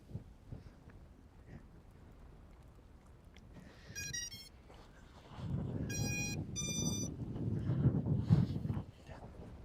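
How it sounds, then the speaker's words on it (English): Low, rumbling wind noise buffets the microphone near a volcanic eruption site in Iceland, building louder in the second half, with a few brief tonal beeps partway through. "Yeah, it's really windy."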